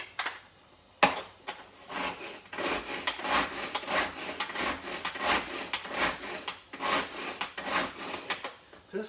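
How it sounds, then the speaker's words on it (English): A knife chops herb leaves for hariyali chicken on a cutting board, giving a quick run of close, sharp chopping strokes in an irregular rhythm, each a short crisp tap or scrape. "So just finally chop that up a bit more"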